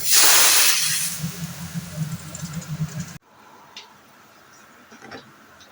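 A pressure cooker on a gas stove lets out a loud, hissing steam whistle that slowly fades over about three seconds, then cuts off, leaving quieter kitchen background.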